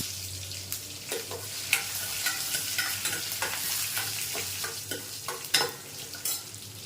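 Dried red chillies and green chillies sizzling in hot oil in a pan for mango rice, with steady frying crackle and a run of scraping stirs and clinks throughout, close and alone without talk.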